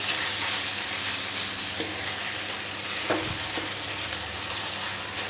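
Brinjal curry cooks in a pan, a steady close hiss of frying with a couple of soft spoon scrapes as it is stirred, no voices.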